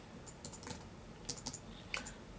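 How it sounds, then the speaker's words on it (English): Keyword being typed on a computer keyboard in an office: a short run of soft, close key clicks in small clusters, faint against a quiet background hum. "So let's type what I just had in the keyword planner"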